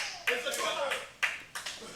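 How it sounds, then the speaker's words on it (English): Open-handed slaps land in a dojo wrestling match, two or three sharp smacks about a second apart, with a commentator talking over the action and a faint crowd behind. "Slap in the face of Danjerhawk"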